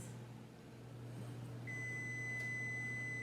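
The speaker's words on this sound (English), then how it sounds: "putting the timer on for 15 minutes" A kitchen oven timer is set, then a steady high-pitched electronic beep sounds continuously over a low mains hum, fairly close and alone.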